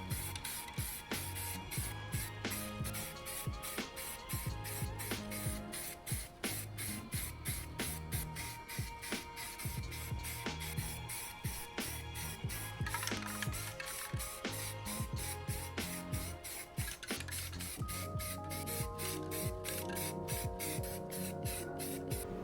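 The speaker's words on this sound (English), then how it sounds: "We are finally continuing with the spray painting here." Aerosol can spraying filler primer onto a 3D printed helmet, a run of hissing bursts with rapid rattling and clicking mixed in and faint background music throughout.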